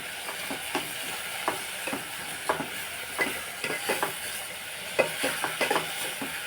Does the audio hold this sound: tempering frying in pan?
yes